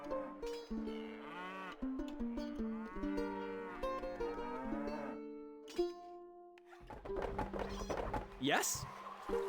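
Cows in the video game Stronghold low in long, drawn-out moos that overlap one another, followed by a short break and then more game sounds. A voice speaks during the later part.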